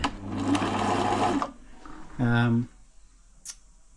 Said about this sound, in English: This machine is very slow. It really needs completely stripping down and all the old grease and oil and stuff cleaning out of it